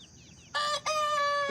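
Roosters crowing in the morning, one long crow after a brief pause from another, close and loud with harmonic calls over quiet background.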